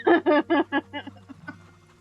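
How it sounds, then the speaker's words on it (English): A chicken in the farming video game Farm Together gives a run of rhythmic clucks, starting loud and tapering off, clear and alone. "This is it. This is the chicken."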